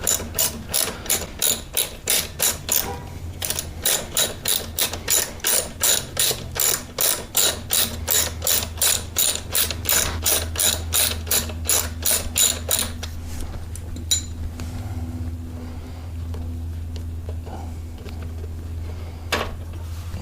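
A hand ratchet clicks in a fast, steady run of sharp ticks while removing a brake caliper bolt on a 2014 Kawasaki ZX10R's rear brakes. It sounds close and loud for about thirteen seconds, then stops, leaving a low hum and a few faint taps.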